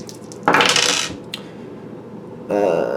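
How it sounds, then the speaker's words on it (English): Dice rolling and clattering on a hard surface during a tarot-style reading, with a loud rattling burst early on, a brief tick afterwards, and a second rattle near the end. "Let me just clarify it with the dice"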